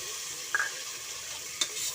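Soft, steady sizzle of onions frying with cumin in a pan, faint and close, with a couple of light stirring clicks.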